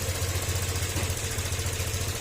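A car engine that was not warmed up idles steadily, a workshop check after a check-engine warning. The low rumble is loud and close, with an even pulsing throb throughout.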